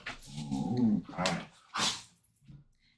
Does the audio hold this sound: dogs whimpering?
yes